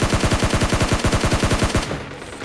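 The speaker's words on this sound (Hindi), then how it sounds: "और नॉक करने के बाद मैं इसको बहुत सारी गोलियां भी मारता हूँ" Rapid automatic gunfire in PUBG Mobile Lite, one sustained burst of evenly spaced shots for about two seconds, then it abruptly stops.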